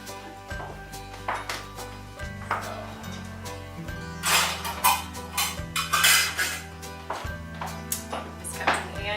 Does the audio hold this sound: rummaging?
yes